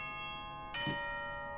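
A short announcement chime from the Danganronpa 2 video game rings out, a couple of bright bell-like tones over a faint steady hum, fairly quiet.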